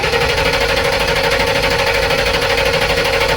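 A 2012 Ford van engine cranks without starting, the starter turning it over in a steady, rapid, rhythmic churn that stays loud and close throughout with no catch.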